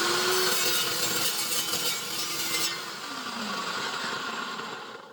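Cold cut saw slicing through 1.5-inch steel angle iron, a loud continuous grinding whine with a slight drop in pitch partway through, near and steady with no talk.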